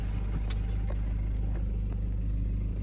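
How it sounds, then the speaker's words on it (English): A campervan engine rumbles steadily at close range on a Tasmanian roadside, a continuous low idle and drive-off drone with no talk. "We'll de-chuck the van and drive on out of here."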